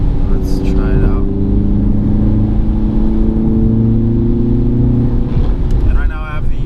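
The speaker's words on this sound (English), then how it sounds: "Right now I have it set to loud, so you can hear the engine sound a little bit better." A 2018 Audi TT engine, set to its loud engine-sound mode, revs steadily under acceleration with a sustained close droning tone that rises slightly, and a voice speaks briefly near the start and end.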